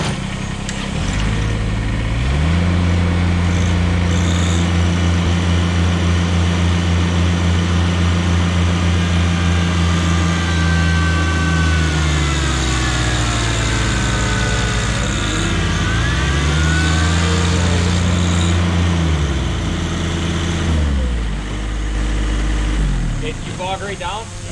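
A Kubota BX and a John Deere 1-Series compact tractor run at full throttle in a hydrostatic pushing contest, engines droning loud and close, rising and falling in pitch as they strain against each other.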